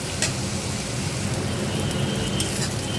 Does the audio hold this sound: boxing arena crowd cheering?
no